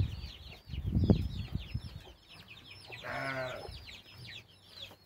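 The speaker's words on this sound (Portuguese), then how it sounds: "Aqui temos bastante pintinho aqui." Farmyard chickens with many loose chicks give a steady stream of close, high peeping, mixed with hen clucks, a louder hen call midway and some low rustling nearby.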